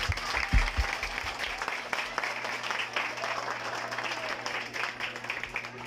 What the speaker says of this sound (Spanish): Por lo cual pido un fuerte aplauso para él.